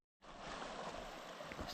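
A river on a Drakensberg mountain hike rushes steadily nearby, giving a constant broadband flowing hiss with no pauses, fairly soft overall.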